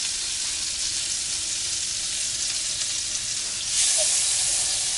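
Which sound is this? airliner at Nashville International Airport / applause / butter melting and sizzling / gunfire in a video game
butter melting and sizzling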